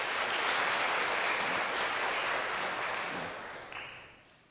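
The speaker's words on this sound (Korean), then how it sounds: "여러분들 환영의 박수 부탁드리겠습니다." Sustained applause from a church congregation welcoming a visiting guest during a Sunday worship service, steady and full for several seconds before thinning and tapering off at the end.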